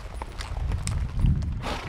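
Horses' hooves clip-clop steadily on rugged ground as riders head out to gather cattle, a close, continuous rhythm of footfalls with light rustling and no talk.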